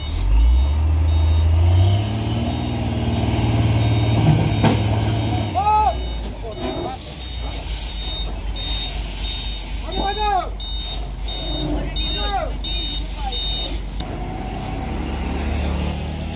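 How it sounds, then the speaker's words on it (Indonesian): A Hino truck strains on a steel cable to pull a stuck trailer truck on a steep uphill road, its engine droning steadily while a reversing beeper repeats and voices talk over the noise. "Dan ini akan langsung ditarik sama truk Hino"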